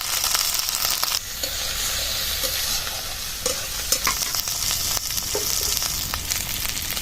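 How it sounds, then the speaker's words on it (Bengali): Ginger frying in hot oil with turmeric powder, a steady loud sizzle with scattered pops and spatters and occasional stirring scrapes throughout. "আদাটা ছিটকাচ্ছে, তার জন্য হলুদ গুঁড়ো দিয়ে দেবো।"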